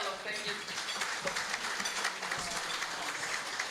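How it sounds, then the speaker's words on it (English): An audience at a regional sports awards night applauds an award winner, a steady patter of clapping from a hall full of people with some voices mixed in. "Please give everybody a round of applause for Brett Ellum"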